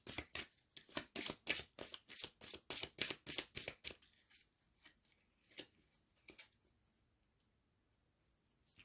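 A deck of shamanic healing oracle cards is shuffled in a quick run of crisp, rhythmic riffles up close. Softer scattered flicks and taps follow as cards are drawn and laid down.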